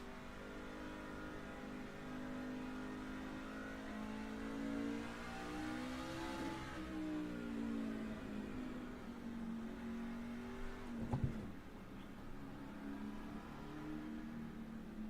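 A truck engine revs and strains on a lap of the COTA race track, its tone climbing through the gears and then easing off. It stays fairly faint but steady, with a short sharp clunk near the end and no speech.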